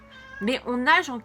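A cat gives a couple of short meows close by while a person speaks French over it.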